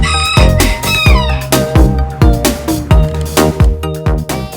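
Repeated rooster and chicken calls, a cartoon-style barnyard sound effect with rhythmic clucks and crowing over a steady musical backing, loud and close throughout.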